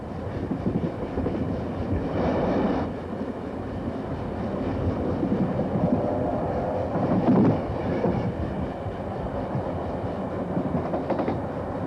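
Steam locomotive 3801 runs along the line with a continuous rumbling roll and rhythmic rail clatter, swelling slightly in a few places, heard on its own without voices.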